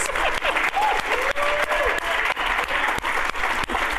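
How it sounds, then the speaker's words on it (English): Steady applause from an audience at a Dungeons & Dragons event fills the clip, dense clapping throughout with a few faint voices and whoops rising above it. "Just applaud already, please."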